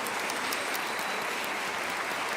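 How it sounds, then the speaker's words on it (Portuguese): A church congregation applauds for the adolescents, a dense, even roar of clapping from many hands that stays loud and unbroken throughout. "Vamos aplaudir o Senhor pela vida deles."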